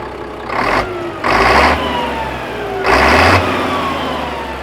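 A Caterpillar diesel engine in a clean cabover day cab truck revs in three distinct throttle blips. Each roar rises over a deep, steady idle, and the truck is heard up close.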